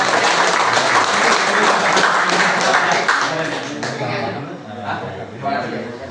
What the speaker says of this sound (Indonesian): Kita beli aplaus ya buat ke panitia.